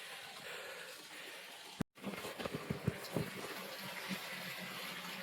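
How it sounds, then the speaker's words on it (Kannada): Water pours steadily into a pond on a hilltop near a temple, a continuous gushing wash heard close by, briefly cut off once before resuming. "ನೋಡಿ ಇಲ್ಲೊಂದು ಕೊಳ ಇದೆ, ಅದಕ್ಕೆ ನೀರು ಬಿಡ್ತಿದ್ದಾರೆ"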